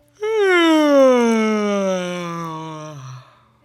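A person does a vocal warm-up, yawning while wiggling the cheeks, producing one long, loud, voiced yawn-like tone that slides downward in pitch over about three seconds and then trails off.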